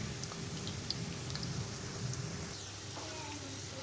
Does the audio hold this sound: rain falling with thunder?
yes